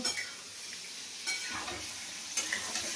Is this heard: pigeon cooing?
no